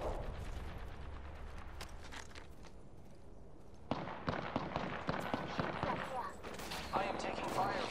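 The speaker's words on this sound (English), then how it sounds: "I am taking fire, friends." Gunfire from the Apex Legends battle royale game: repeated sharp shots in bursts, dense and rapid after the midpoint, over a constant mix of game sound and scuffling.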